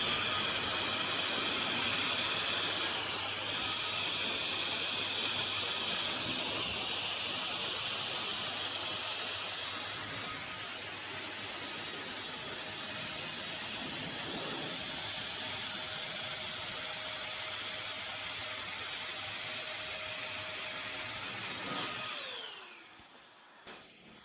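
A Chemicalworkz car dryer blasting air over a car's hood and roof paint at full throttle, a loud, continuous high-pitched whine and rushing roar that winds down at the end.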